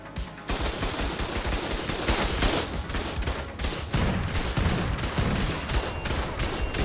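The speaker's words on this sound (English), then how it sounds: "I was wondering how I was getting shot by turrets" Sustained rapid automatic turret gunfire in the survival game ARK: Fjordur, dense overlapping bursts of shots running almost the whole time, loud and continuous with no voices.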